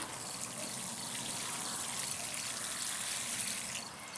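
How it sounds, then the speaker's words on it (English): Water poured onto the soil around a freshly transplanted iris, a steady, soft trickle and splash lasting several seconds without a break. "Then you would water thoroughly."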